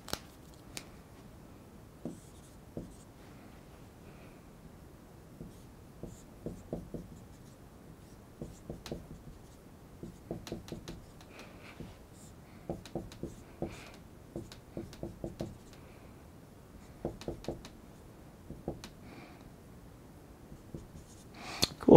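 Marker or chalk strokes on a board while sketching an organic chemistry resonance structure, a sparse run of short tapping and scratching clusters, faint and close, with no talk over them.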